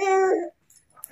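A cat gives one drawn-out, close meow indoors at night, lasting about half a second before quiet, with faint rustling afterward.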